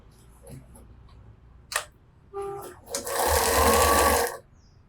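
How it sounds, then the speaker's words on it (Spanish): Sewing machine running a first pass of a French seam about half a centimetre in on a ruffle, preceded by a few fabric rustles and clicks, then a steady close whirring burst lasting about a second and a half. "Pasamos esa primera costura como a medio centímetro."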